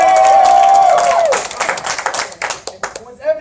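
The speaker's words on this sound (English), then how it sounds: "I need a round of applause." Improv show audience claps and cheers to vote on a performer, a sustained loud shout and wash of noise giving way to uneven bursts of clapping that fade and flare again.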